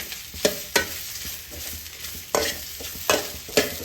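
Radish being sautéed and stirred in a pan for a spicy kara kuzhambu, a low sizzle broken by a handful of sharp spoon-against-pan scrapes spaced irregularly, close by and without any talking.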